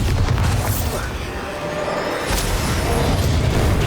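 A Bombarda spell explosion in the video game Hogwarts Legacy on Nintendo Switch, a dense, loud, sustained booming roar with a sharper burst partway through, amid game sound.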